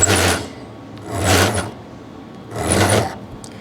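Metal file strokes rasping across the crown guard of an Invicta 8926 Pro Diver watch case, three separate scraping passes, close and fairly loud, each separated by brief quiet.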